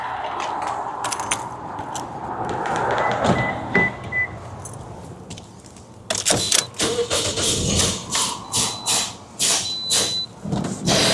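A 2009–2013 Toyota Corolla with a 1.8L engine cranks and catches, then runs roughly and falters, with clicks and clunks of handling around the car and a choppy, uneven engine note that keeps sagging.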